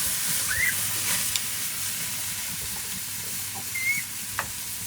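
A steak sizzles on a flame char grill with a soft, steady hiss and faint crackle, quiet and continuous, with a few tiny pops and no talking.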